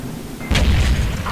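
A tank cannon firing in World of Tanks, from an E75 heavy tank: one sudden loud boom at about half a second, followed by a deep rumbling tail over steady engine background.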